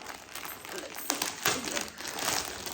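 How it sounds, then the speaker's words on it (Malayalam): Plastic wrapping on a clothing order, a kurta set, crinkles and rustles steadily while being unboxed, with a few sharper crackles partway through and no voices. "സോ നെക്സ്റ്റ് നമുക്ക് ഈ ഒരു പാക്കേജ് അൺബോക്സ് ചെയ്യാം."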